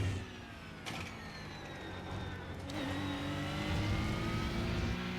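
A race car engine in the iRacing sim racing game whines steadily and climbs in pitch as it revs up through a hairpin exit, close and continuous with no talk.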